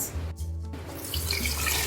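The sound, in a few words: water poured into pot with beef trotters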